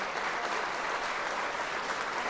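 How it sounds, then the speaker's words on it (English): An audience at a fleet transport awards ceremony claps steadily and loudly throughout, a dense, even wash of applause with no talk over it. "Could we have a round of applause for Jerry from Mercedes-Benz, please?"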